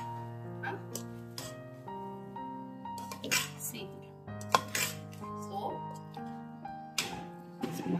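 A spoon stirs aloo gobhi masala of potato and cauliflower in a pan, giving scattered metallic clinks and scrapes over a sustained tonal background.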